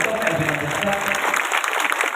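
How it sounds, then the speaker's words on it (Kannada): An audience at a spiritual discourse claps loudly together, a dense burst of applause with scattered sharp claps, a voice speaking partly under it before the clapping thins toward the end. "ಜೋರಾದ ಭಕ್ತಿಯ ಚಪ್ಪಾಳೆ ತಟ್ಟು"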